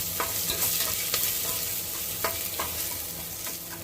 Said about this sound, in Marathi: तर फोडणीचा तुम्ही आवाज ऐकताय त्याचबरोबर जो सुगंध असतो